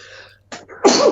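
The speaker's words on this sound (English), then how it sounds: "I'm going to sneeze." A single loud sneeze, preceded by a short inhale and breathy buildup, sharp and close, followed by a noisy burst that trails off briefly.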